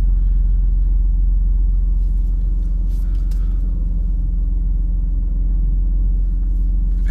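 A BMW E46 325Ci convertible's engine idles steadily and close by, a constant low rumble with no revving and no voices.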